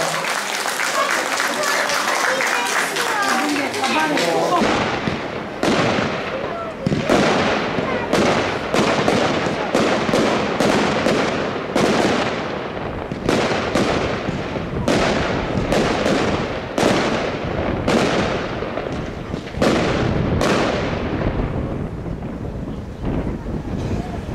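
Loud fireworks bursting repeatedly at an outdoor charity fundraiser in Dębno, Poland, sharp booms following one another over a roar of crowd noise and wind buffeting the microphone.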